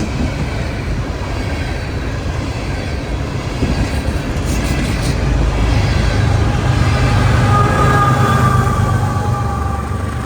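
A local diesel train rumbles steadily past close by at Chesterton/Porter, its low churning roar growing slightly louder midway, with faint metallic squeals above.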